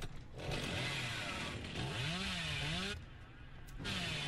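Killer's chainsaw in the video game Dead by Daylight, a continuous buzzing engine drone that rises and falls in pitch as it revs, with sharp cuts and a brief dip before it roars again.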